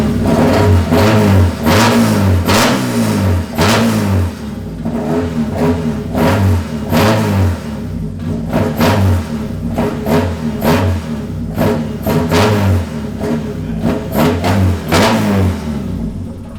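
A Toyota AE86 with a swapped 3SGE BEAMS engine, freshly started with a new header, revs hard again and again in close, loud, rhythmic bursts that drop back toward idle between pulls. No one speaks.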